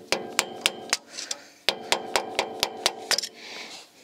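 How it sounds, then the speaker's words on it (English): A hammer taps a tight nut during parking brake shoe replacement on a 1999–2007 Chevy/GMC 2500HD, two bursts of quick, sharp metallic taps in close succession, loud and near. "So we gotta go ahead and give it a couple taps."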